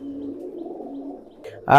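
A pair of pigeons, high-flying pet birds, coo softly in a low steady murmur, with a louder burst of sound near the end.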